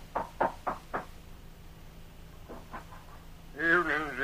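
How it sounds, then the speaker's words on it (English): Knocking on a house door in an old-time radio drama of The Lone Ranger: four sharp raps in quick rhythm, then a softer pair of knocks, followed by a voice speaking. "We hear him as he raps on the door of Jim's home."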